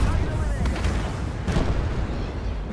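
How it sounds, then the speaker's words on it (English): Heavy gunfire from a Bradley armored vehicle in the Armored Warfare tank game, a dense, loud rumble of booming shots running throughout the battle with a voice talking over it. "Who is shooting me? It's a Bradley. It's a buffed Bradley."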